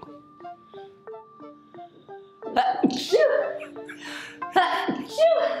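After a stretch of a quiet repeating electronic beep, a person sneezes loudly and close by, followed by voices talking and laughing.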